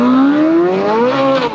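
A Chevrolet Corvette Z06 accelerates away, its engine note climbing steadily in a loud, close, smooth rising tone before easing back slightly at the end.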